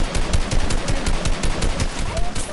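Rapid automatic gunfire in the video game Fortnite, a dense, loud burst of repeated shots in a steady rhythm lasting a couple of seconds, with no talk over it.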